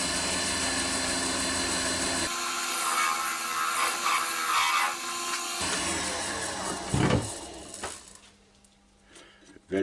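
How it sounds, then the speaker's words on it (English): Skew chisel shaving a padauk and walnut bowl on a wood lathe, a steady motor hum with scraping, rubbing cuts that change texture midway and fade near the end. "Just use the skew chisel now to get the shoulders on the mortise."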